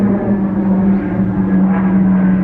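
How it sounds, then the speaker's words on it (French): An airplane passes overhead in the United States, a loud steady engine drone with a low hum that fills the whole stretch without letting up. "j'attends que l'avion passe parce que sinon vous allez rien entendre"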